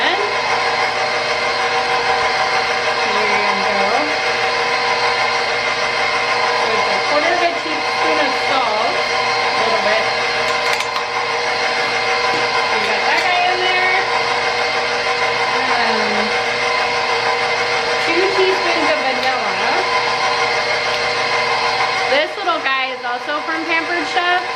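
An electric mixer creams butter, sugar and salt for pecan ball Christmas cookies, giving a steady, loud motor whir that runs without a break for over twenty seconds before cutting off near the end, with a voice talking over it.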